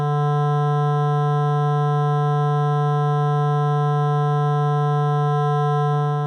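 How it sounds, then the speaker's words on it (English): Roland S-1 synthesizer oscillator playing a hand-drawn waveform with sharp spikes, a loud steady buzzy tone rich in overtones, held continuously with a brief flutter near the end. "you can clearly hear the overtones introduced by those spikes"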